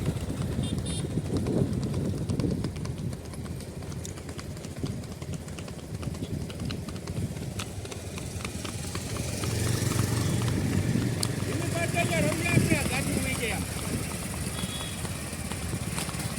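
A mare's hooves clip-clop along a road in an uneven trotting rhythm, with occasional talking and background traffic mixed in.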